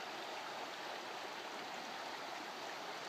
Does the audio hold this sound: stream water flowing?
yes